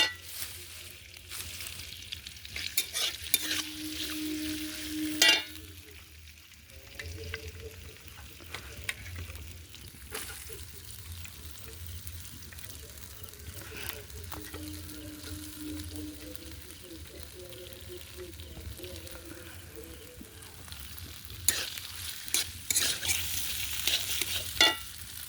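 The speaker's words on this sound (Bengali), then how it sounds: "আলুটা ভেজে নিই।" Sliced potatoes with salt and turmeric fry in a kadai, a soft continuous sizzle broken by clinks and scrapes of stirring, with a few faint hums of a voice at a distance.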